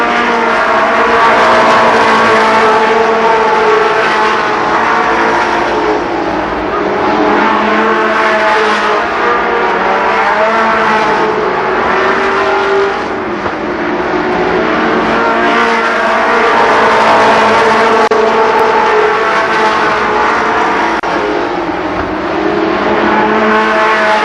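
Race cars roar around the oval at Columbus Motor Speedway during a fall stock car event, loud engines rising and falling continuously as the pack passes, with occasional tire squeal.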